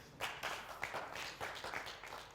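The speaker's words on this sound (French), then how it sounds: "Merci de l'applaudir" Scattered clapping from a studio audience on a Burkinabé TV entertainment show welcoming a male guest, a modest spread of hand claps at moderate distance with no one talking.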